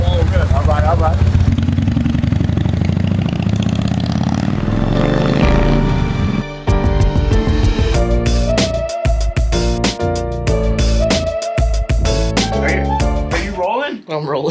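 A Polaris RZR off-road vehicle with a stick shift revs and drives on a Chicago street, its engine rising and shifting in pitch with rattly bursts, loud and close as someone talks over it.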